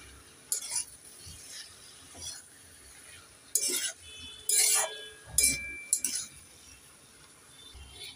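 Cabbage curry being stirred in a pan with a spoon, giving several sharp metallic clinks and scrapes in bursts, separated by quieter stretches with faint background noise.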